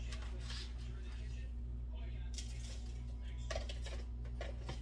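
Pieces of pork chop are moved into a Tupperware stack cooker with faint clinks and soft clatter of utensil against dish over a steady low hum, with a voice talking.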